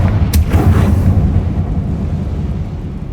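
Confringo fire spell exploding in Hogwarts Legacy, a loud booming blast with a sharp crack near the start, then a rumbling roar that slowly fades.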